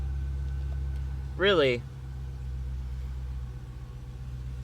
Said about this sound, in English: So you have an excuse to start this car if you want to hear it